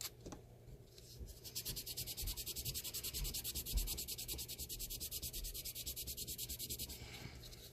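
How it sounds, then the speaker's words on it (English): Rapid back-and-forth scratching of 400-grit sandpaper on a tiny dollhouse bottle, quiet, close and rhythmic, after a short pause at the start. "I'm using 400 grit sandpaper for this project"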